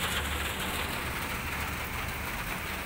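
Heavy rain drums on the body of a 1988 Suzuki Katana SJ410 jeep, a dense steady hiss and patter heard from inside the car, loud and unbroken with no talking.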